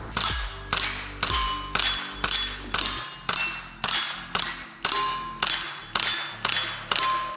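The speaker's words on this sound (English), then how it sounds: "We're gonna see how it sounds with the Bowers suppressor." Twelve subsonic shots from a pistol-caliber carbine fitted with a Bowers VERS 9S suppressor, each a sharp metallic crack with a clanging ring, fired at an even pace about every half second.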